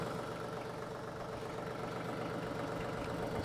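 A TYM 2515H compact tractor fitted with a backhoe idles steadily nearby, a constant low rumbling engine drone with no speech over it.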